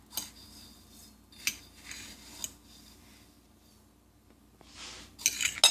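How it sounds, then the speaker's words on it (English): Heart of palm being coated in panko breadcrumbs, a few light crunchy rustles and clinks of a utensil against a dish, scattered and close, with quiet gaps between them. "we're going to put it in the panko breadcrumbs. And we're going to make sure to coat it well"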